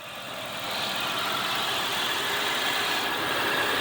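A Dodge Dakota 5.2 V8 Magnum 4x4 engine idles, a steady, even hum with hissing broadband noise that swells slightly in the first second, then holds constant without voices.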